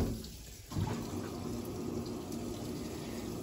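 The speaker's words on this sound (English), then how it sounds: "So it's gonna put the water in there" Midea top-load smart washing machine filling its drum with water, a steady rushing hiss after a short quieter start, close and continuous with no voices.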